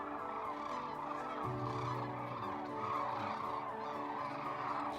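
Birds call in a continuous chorus, layered and somewhat distant, with a lower droning tone entering partway through.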